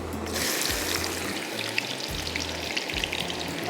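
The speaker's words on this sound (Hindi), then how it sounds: "तो इसमें अभी मैं प्याज डाल देती हूँ चॉप करके इस तरह से" Chopped onions fry in hot oil with a steady, close crackling sizzle, while a low rhythmic hum runs beneath and no one speaks.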